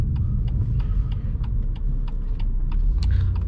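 A BMW M2 Competition is driven on the road, its engine and tyre rumble filling the cabin with a steady low drone, overlaid by faint regular ticking clicks from inside the car.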